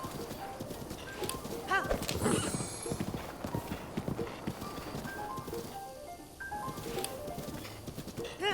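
Galloping horse hooves in Age of Calamity, a rapid clip-clop rhythm running throughout with a brief whinny, over game music and effects; a voice speaks briefly.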